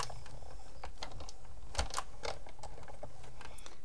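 A hand-cranked die-cutting machine rolls through tree-leaf dies, producing quiet, irregular close-up clicks and ticks with one firmer thump partway through.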